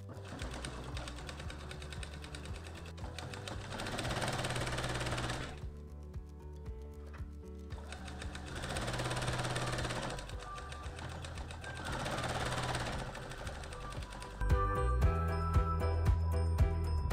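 A sewing machine stitches a jersey skirt in steady whirring bursts of a few seconds each, separated by short pauses, close and fairly quiet, with a heavier thump at the end.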